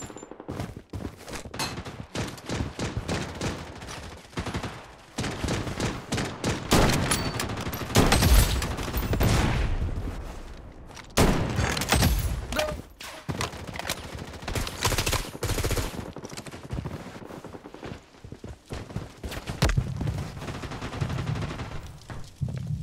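Dense bursts of automatic gunfire and overlapping shots fill a BloodStrike mobile shooter firefight, loud and nearly continuous, with heavier volleys building in the middle.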